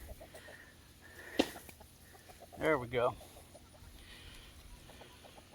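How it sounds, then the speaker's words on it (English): Chickens and a rooster cluck in a farmyard, a couple of louder close squawking calls standing out over faint background clucks, with a person briefly speaking. "she can watch the chickens"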